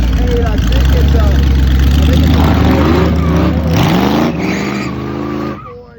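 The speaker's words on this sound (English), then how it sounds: "When Boss Hosses hit the drag strip, V8 motorcycles, this is nuts." A 545-horsepower Boss Hoss V8 motorcycle on a drag strip roars loud and close, its deep engine note climbing in pitch as it revs and pulls away, then fading, while a commentator talks over it.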